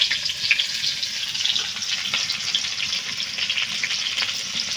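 Onion and green chilli fry in a pan for a Bengali rui fish curry, giving a steady, close crackling sizzle with no talk.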